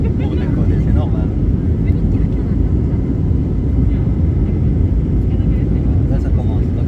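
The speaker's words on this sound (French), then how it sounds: "On commence à décoller. Ça va vite, hein?" A TAP Air Portugal airliner accelerates down the runway for takeoff, a loud, steady broadband engine roar and cabin rumble filling the whole stretch without letting up, with voices talking over it.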